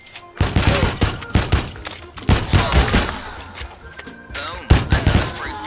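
Rapid bursts of video game gunfire blast at fruit targets in Shootyfruit, loud clustered volleys with a few single cracks and thuds over several seconds.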